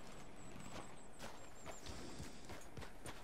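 Horse hooves clopping at a steady riding gait in Red Dead Redemption 2, rhythmic thuds repeating throughout over a continuous game ambience, with no talk.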